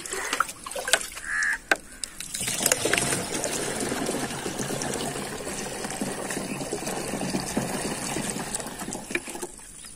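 Water is poured into a farm spray pump tank before crop spraying. A few close knocks and handling sounds give way to a steady, continuous splashing pour that fills the rest of the clip.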